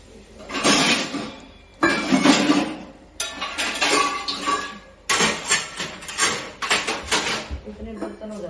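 Kitchen dishes and utensils are put away in bursts of clattering and clinking, with sharp knocks and short pauses between handfuls, close and loud, while someone talks over the sounds.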